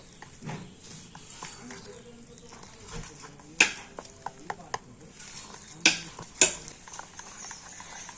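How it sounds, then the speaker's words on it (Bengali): Batter with flour being whisked in a bowl by hand, heard as irregular tapping and scraping clicks with a few sharper knocks against the side, close by. "আর এবার আমি আবারও সবকিছু কিন্তু একটু ভালো করে ফেটিয়ে নেব।"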